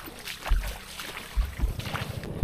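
Floodwater sloshes and splashes around a moving small boat, with low rumbling hull noise and gusts of wind buffeting the microphone.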